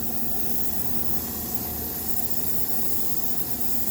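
An airbrush sprays paint onto a 1932 Ford roadster in a steady, unbroken airy hiss that stays constant and fairly loud throughout.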